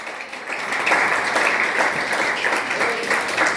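Church congregation applauding loudly during a Spanish-language worship service, a steady dense wash of clapping that swells after the first second and holds at full strength throughout.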